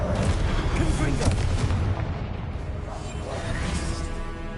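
Confringo blasting spell from Hogwarts Legacy going off amid dense, continuous booming and crackling game combat, with rumbling low explosions and whooshes layered under faint voices.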